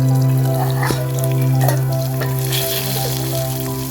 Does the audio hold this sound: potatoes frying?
yes